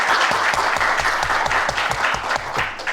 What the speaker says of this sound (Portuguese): A gente acolhe a professora Lisa com uma salva de palmas.